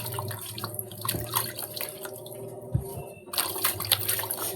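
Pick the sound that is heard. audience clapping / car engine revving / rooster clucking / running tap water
running tap water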